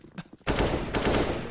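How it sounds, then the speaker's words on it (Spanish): Gunfire in the video game CS:GO erupts suddenly after a brief quiet, a loud rapid burst of shots that carries on to the end. "Le está disparando a través de la pared, tío"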